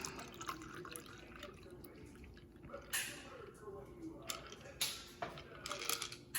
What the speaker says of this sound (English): Now we're just gonna come in and pour it in the glass.